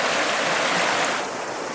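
Creek water rushes and babbles nearby on a Georgia Traverse trail, a loud, steady outdoor wash that eases a little toward the end.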